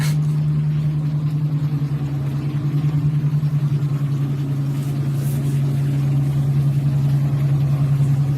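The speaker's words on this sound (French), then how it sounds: "C'est le groupe électrogène." A diesel generator (groupe électrogène) runs beside a charging electric bus, giving a steady, loud, low droning hum with an even throb that continues unchanged throughout.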